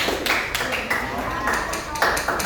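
A group of people in a classroom claps hands in a short burst of uneven, moderately loud claps mixed with voices.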